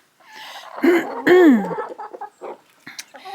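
Chickens in a backyard coop give a few close, distinct clucks and squawks, one rising and falling, then softer scattered calls, with no talk over them.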